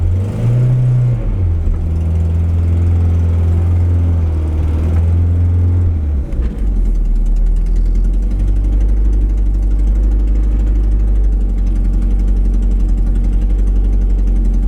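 A Peugeot 205 CTI/GTI engine runs loud and steady up close. It is held at a raised, slightly wavering speed at first, then drops after about six seconds to a low, even idle rumble.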